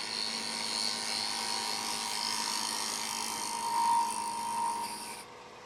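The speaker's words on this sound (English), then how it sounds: "I'm just going to take a little negative scraper on that" A negative scraper shearing a wooden bowl spinning on a lathe, giving a steady, close, continuous whirring scrape that holds for several seconds and then stops abruptly, with no talk.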